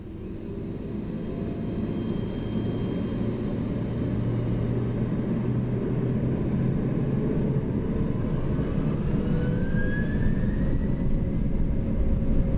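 A Lufthansa Cargo MD-11 on its takeoff roll, heard as a steady, dense engine roar and rumble that builds slightly over time, with a faint whine rising near the end and no talk.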